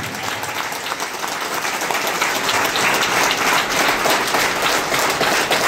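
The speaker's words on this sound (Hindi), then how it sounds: "एक बार दिल से जोरदार ताली हो जाए। ये ताली कोटा तक पहुंचनी चाहिए।" A large seminar audience in Ranchi gives loud, sustained applause that builds slightly in intensity, a rain-like wash of many hands clapping at once with no talk over it.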